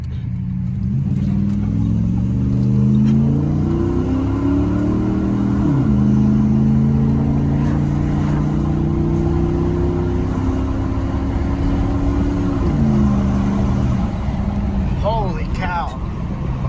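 A 2003 Dodge Ram pickup engine with a cold air intake idles and revs several times, the pitch rising and falling in long sweeps, loud and close throughout.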